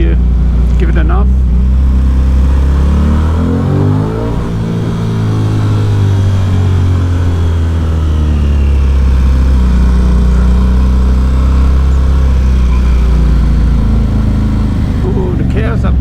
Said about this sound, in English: let's see if we can make this exhaust backfire, because it does.